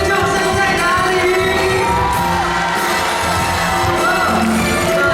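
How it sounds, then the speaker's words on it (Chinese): A concert crowd at a Taiwanese-song performance in a Taipei memorial hall screams, yells and cheers in a loud, continuous roar that fills the space, with whoops rising above the dense mass of voices. "现场所有的朋友，你们尖叫声在哪里？"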